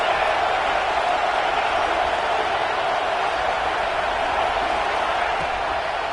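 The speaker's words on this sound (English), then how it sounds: "This crowd trying to make life miserable for this offense." A stadium crowd at a college football game roars as one steady, dense wall of noise, loud and unbroken throughout with no distinct voices standing out.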